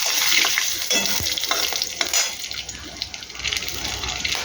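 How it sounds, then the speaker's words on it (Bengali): Whole spices, bay leaf, dried chilli and cumin dropped into hot oil, giving a steady bright sizzle and crackle up close, with a few clinks of a utensil stirring in the pan. "এর মধ্যে আমি দেখুন গোটা গরম মশলা, তেজপাতা, শুকনো লঙ্কা, জিরা নিয়েছি, এটা দিয়ে দেবো তেলের ওপরে। এটা ভাজবে।"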